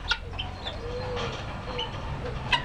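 Helmeted guineafowl call from a flock, scattered sharp clucks and chirps ringing out at moderate distance over a steady outdoor background, with a louder call near the end.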